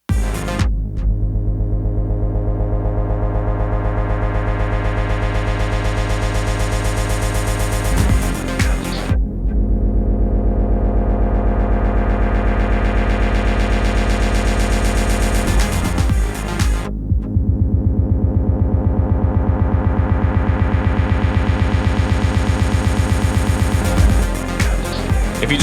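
An EZ-Drummer style filter effect on an Elektron Octatrack sweeps a loud, sustained droning tone, restarting about every eight seconds in three repeated cycles with no talking.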